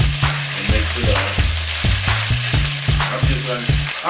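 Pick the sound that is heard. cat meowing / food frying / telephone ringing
food frying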